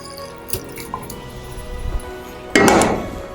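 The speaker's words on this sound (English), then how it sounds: "I'm going to strain it into this bowl and into the jug and cool it a little bit more." Homemade zobo, a hibiscus drink, strained from a pot into a bowl and a jug: a few small drips and clinks, then a loud, steady pour of liquid that splashes for about a second before tapering off.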